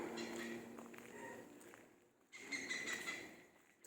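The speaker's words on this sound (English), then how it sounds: "what are these seagulls? Anyways, they're so noisy." Seagulls give a few faint, harmonic cries, clustered near the middle and end, over a low, noisy outdoor background.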